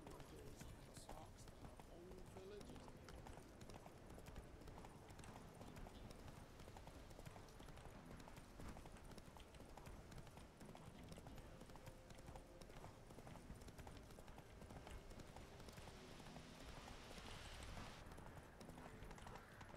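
Geralt's horse Roach galloping in The Witcher 3: Wild Hunt, a steady rapid clip-clop of hooves heard continuously at low level beneath game sounds and someone talking.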